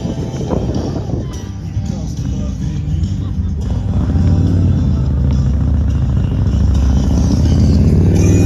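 Motorcycle rumbling past on a town street, its engine drone swelling louder and lower toward the end while a person talks over it.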